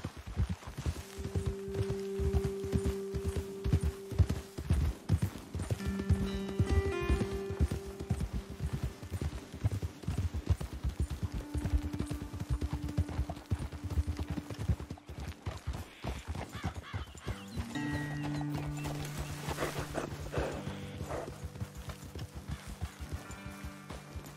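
Video game sound of horse hooves walking along in a steady clip-clop, rhythmic and continuous, with a horse neighing and snorting partway through.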